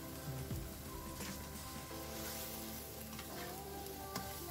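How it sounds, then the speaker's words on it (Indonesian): Beef stir-fried with a spice paste in a pan makes a soft, quiet sizzle with a few stirring scrapes, over faint steady tonal background sound. "Kita tumis sampai dagingnya menciut atau berubah warna"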